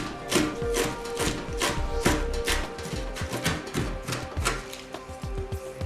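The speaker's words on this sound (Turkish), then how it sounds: "kereviz saplarını da çok ince doğruyoruz" Quick, steady knife chops finely cutting celery stalks on a cutting board, a fast rhythmic series of crisp taps close by with no talking.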